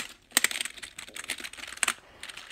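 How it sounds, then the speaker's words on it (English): Bursts of clicky keystrokes on a Biotech mechanical gaming keyboard, a few quick clusters of sharp taps with brief pauses between them, close and fairly quiet, with no voices. "Mechanical, it's a biotech mechanical gaming keyboard."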